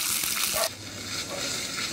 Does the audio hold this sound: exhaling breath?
no